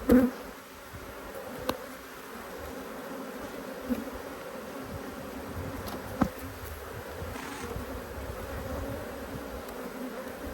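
Honey bees buzzing around an open hive during an inspection of an agitated colony, a dense continuous drone with a few sharp clicks and knocks, no voices.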